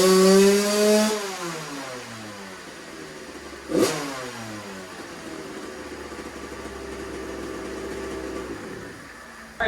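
A 2001 Suzuki RM 80 two-stroke dirt bike fitted with an FMF Shorty silencer revs on a dyno, rising to a loud wail, dropping sharply, with a brief blip midway before settling into a lower, steadier drone.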